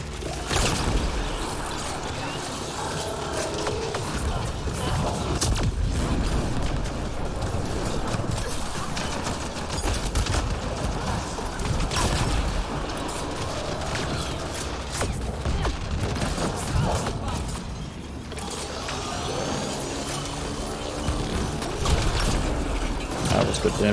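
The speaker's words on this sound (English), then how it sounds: "They just don't stop shooting." Gunfire from angry bots in Mass Effect: Andromeda, a steady barrage of rapid shots and mechanical clatter running almost nonstop, dense and loud throughout.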